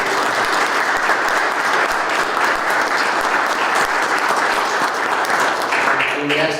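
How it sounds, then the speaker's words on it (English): A round of applause fills a township committee meeting room, dense and even clapping from a gathered crowd that runs steadily throughout, with a voice emerging faintly at the very end. "So, a round of applause."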